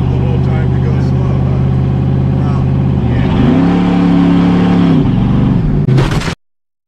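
A Mercury Comet car engine hums at a low steady idle while creeping along slowly, then rises briefly in pitch and settles back, loud and close, ending in a short burst of noise before cutting out.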